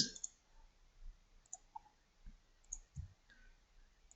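Quiet, sharp computer mouse clicks while working in 3D modeling software on a bed frame model, a few scattered single clicks with soft low bumps and no talking.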